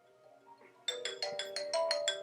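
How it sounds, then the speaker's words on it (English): A phone rings for an incoming 3CX webclient call, starting with faint tones and then a loud repeating electronic pulse ringtone with a quick steady rhythm. "it's going to call you and you're going to have to answer it."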